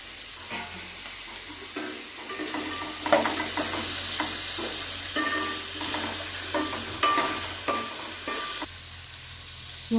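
Curry leaves crackle and sizzle in hot oil in a pan for vegetable pulao, a constant frying hiss with frequent stirring scrapes and small pops throughout, close and fairly loud.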